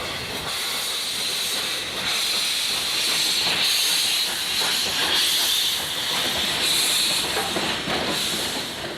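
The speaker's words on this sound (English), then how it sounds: "this is one of the day's first steam departures" A steam locomotive departs from Wolsztyn, Poland, on an early passenger service, giving a loud, continuous hiss of steam with soft rhythmic chuffing and faint rail clatter throughout.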